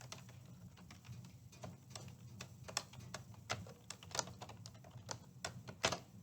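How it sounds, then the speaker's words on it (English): Fingers type on a computer keyboard in a quick, uneven run of light clicks and taps, close and fairly quiet, with no talking. "and then I'm going to type"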